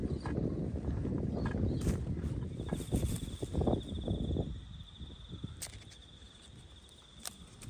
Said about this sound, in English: What else would you find but at a cricket ground, folks? But a cricket.